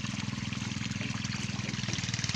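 A strong stream of water gushes from a large PVC pipe, drawn from a river, watering a tobacco farm, with a steady rushing flow and a fast rhythmic pulsing throughout, no voices.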